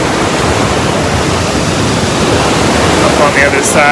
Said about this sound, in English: It's a tiny little waterfall that's right there.